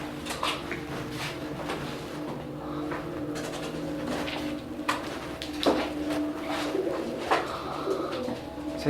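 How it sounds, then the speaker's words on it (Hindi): Pigeons coo repeatedly inside an abandoned coal godown, their soft, throaty calls overlapping in a roomy, echoing space with occasional rustles and flutters. "यहाँ सिर्फ कबूतर हैं और बहुत सारे कबूतर हैं"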